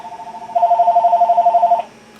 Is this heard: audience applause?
no